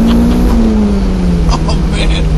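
A turbocharged car with a boost regulator kit pulls hard in second gear, its engine tone steady and loud from inside the cabin, dropping slightly in pitch, while a person talks over it.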